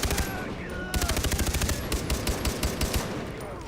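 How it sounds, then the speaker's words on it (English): A turret gun fires continuously in Far Cry 3, a loud rapid machine-gun stream of closely spaced shots with dense battle noise throughout. "I have a goddamn turret gun pulling up behind me here."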